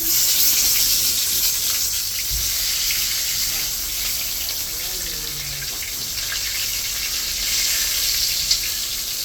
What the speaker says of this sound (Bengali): বেগুনটা ভেজে নেব